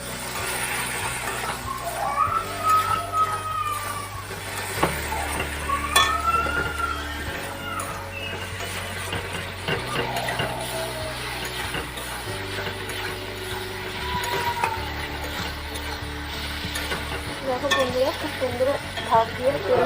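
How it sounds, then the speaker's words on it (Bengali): Spices and ginger fry in a pan while being stirred, giving a continuous sizzle with scraping and occasional clinks of a utensil against the pan, under a low steady hum. "এটা খুব সুন্দরভাবে এটার সঙ্গে মিশিয়ে নেবো মশলা সামান্য আমি এতে জলটা দেবো যাতে আদাটা পুড়ে না যায়"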